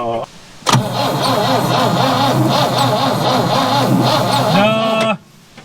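An old vintage GMC C30 dump truck engine, after sitting for decades, cranks over slowly with a steady rhythmic starter churn for about four seconds, loud and close, under a voice talking, then stops.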